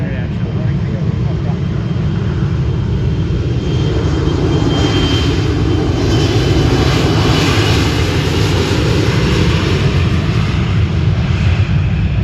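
A plane passes over Cleveland on a foggy evening, its engine roar broad and steady, loud and close throughout with a slight swell midway.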